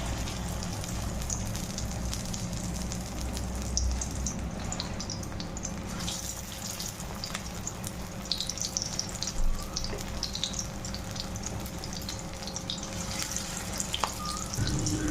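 Pumpkin flower fritters coated in light gram flour batter frying in hot oil, giving a continuous close sizzle and crackle with scattered pops throughout, without any talk.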